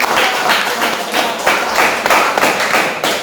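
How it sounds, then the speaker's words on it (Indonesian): A group of people clapping hands together in a classroom session, loud, close and in rough rhythmic bursts with no talking over it. "Tepuk tangan buat Tuhan."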